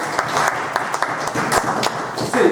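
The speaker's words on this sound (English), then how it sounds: "Please let me clap for him." An audience at a leadership and entrepreneurship conference workshop claps in a sustained burst of applause, moderately loud, with sharp individual claps poking through the wash.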